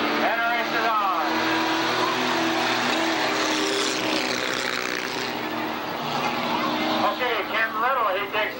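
Race cars at Tonopah Speedway roar off at the start of a race, a loud sustained engine drone with rising and falling pitch sweeps as cars pass close by, with an announcer talking over it.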